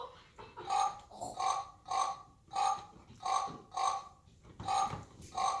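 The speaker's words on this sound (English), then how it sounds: "This is a piggy like Cody's mom." Recorded pig grunting in a steady rhythm: about nine short, nasal grunts, evenly spaced and fairly close, with no other sound around them.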